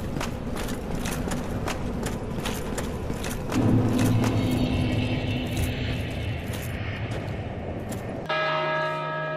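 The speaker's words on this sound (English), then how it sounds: "Bell is ringing." A church bell tolls in repeated heavy strokes at night in Piazza San Marco, Venice, ringing out with a lingering metallic hum over a busy outdoor background.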